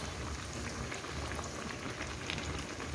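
Moong dal pakoras fry in hot oil, a dense, steady bubbling crackle that sounds close and continuous for a few seconds, with no voices.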